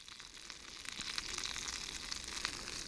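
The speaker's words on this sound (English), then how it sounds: "Starting to get a little bit of a sizzle going." Salmon fries in a pan on a homemade punk can camping stove, a steady close sizzle that builds slightly over a few seconds, with no talk.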